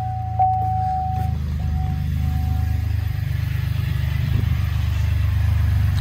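A Chevrolet Colorado ZR2 pickup truck's first cold startup after intake porting: the engine idles steadily with a low, rumbling hum throughout, close and loud, with a faint high tone early on.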